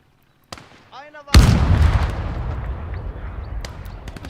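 A grenade blast in a video game: a couple of faint clicks, a short rising whistle, then a sudden loud boom that rolls off into a long rumbling tail.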